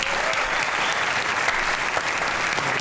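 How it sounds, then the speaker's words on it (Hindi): A studio audience on a Geo TV comedy talk show bursts into loud, dense applause for a guest, a continuous wash of clapping at a steady, even level from start to finish. "भरपूर तालियां"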